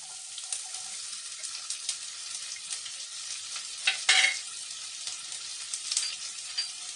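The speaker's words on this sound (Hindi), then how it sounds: "अनियन का छोटा छोटा पीस कर लिया," Finely chopped onion fries in hot oil in a pan, giving a steady close crackling sizzle with a brief louder burst of spatter midway, and no voices.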